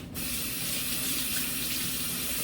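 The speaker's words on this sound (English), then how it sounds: "I need to wash my hands" Hands washed under a running kitchen tap during pork chop prep, a steady, close stream of water splashing that starts abruptly and holds without a break.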